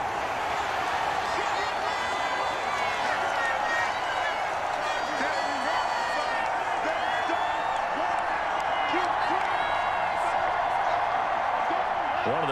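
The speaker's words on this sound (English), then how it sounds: "the crowd getting into it as we come up on a big third down" Stadium crowd in Madden 21 football game roars steadily ahead of a third down, a dense continuous cheer with whoops, heard under commentary voices.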